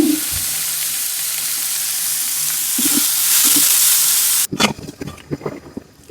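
Red amaranth greens stir-fry in a pan over lowered heat, a steady broadband sizzle with scraping stirs for about four seconds, then the sound breaks into uneven clatters and fading sizzles.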